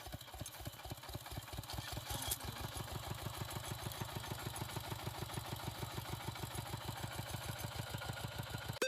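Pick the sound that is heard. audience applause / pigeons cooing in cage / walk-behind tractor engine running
walk-behind tractor engine running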